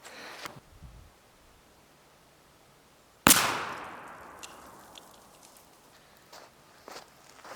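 A shotgun firing a Federal TSS 3rd Degree turkey load outdoors, one sharp, loud blast followed by a long decaying echo, with faint footsteps and rustling before and after.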